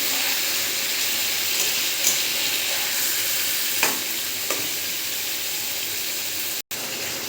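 Meat coated in spice paste fries in a pan with a loud, continuous sizzle, broken by a few soft stirring scrapes; no voices.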